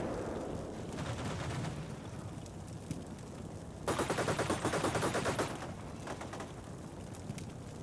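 Rapid gunfire rattling in Combat Mission Shock Force 2, with a dense burst of shots lasting about a second and a half against a constant rumbling battle backdrop of more distant firing.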